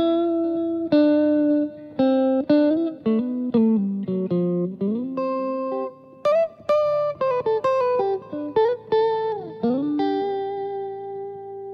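Clean, undistorted lead guitar lick from the Ewe worship song Getsemane, a melodic run of plucked, bending notes with short gaps between phrases, played alone at a moderate level.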